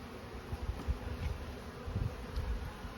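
Honey bees droning in an open beehive, a low steady buzz with soft thumps and handling noises close by, no talk.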